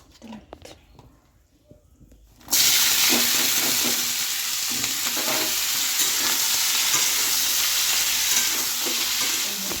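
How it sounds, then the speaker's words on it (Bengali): After a few quiet seconds of faint kitchen clatter, potatoes drop into hot oil and erupt into a loud, sustained sizzle with bubbling crackle and occasional stirring scrapes. "সকালে টিফিনে হচ্ছে আলু ভাজা হবে সেজন্য তেল গরম করে নিয়েছি"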